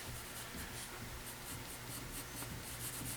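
A pencil shading across paper makes a steady soft scratching and rubbing in short repeated strokes, close and quiet, with no talking.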